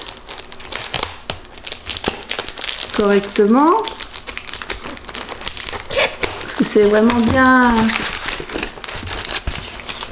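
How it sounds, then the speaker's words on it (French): Tape being pulled off a well-protected parcel holding a diamond painting kit, with crinkly tearing and rustling close by and someone speaking French over parts of it. "Alors je vais voir à enlever le scotch"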